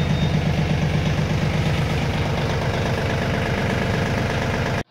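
A Mahindra Ojas 2124 24 HP four-wheel-drive tractor engine idles steadily up close, a continuous even chugging that cuts off abruptly at the end.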